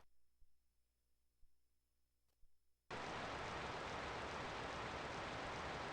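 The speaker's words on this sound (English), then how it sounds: "Is it because it's raining?" Video-game rain from Shigesato Itoi's No. 1 Bass Fishing switches on abruptly after near silence, becoming a loud, steady, even hiss of downpour that holds without a break.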